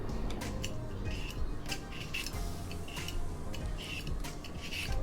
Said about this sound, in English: we're going to start with peeling the English cucumber.